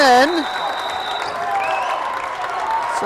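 A crowd at a girls' varsity high school basketball game cheers and applauds after back-to-back baskets, a steady loud roar filling the gym, with a voice heard briefly at the start.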